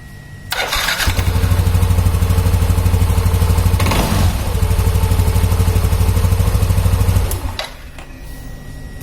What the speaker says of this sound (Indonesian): nyalakan mesin pertama kali, kita lihat apakah start waktu dingin normal atau tidak ya